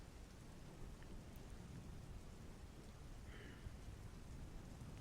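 Steady heavy rain pours down in a continuous, even hiss at moderate volume, with a brief brighter patter of drops partway through and no voices.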